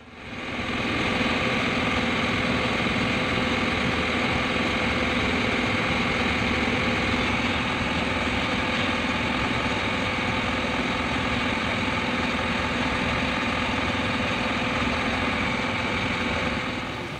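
A ferry boat's engine runs steadily near Kochi, a constant droning hum with vibration lasting the whole stretch and no speech over it.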